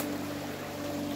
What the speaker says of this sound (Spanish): Es bastante lo que crece este río.